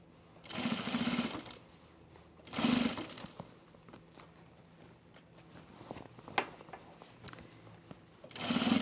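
An industrial sewing machine stitching pants runs in two strong, close bursts of a second or so each, separated by quieter handling of fabric with a few light taps and clicks.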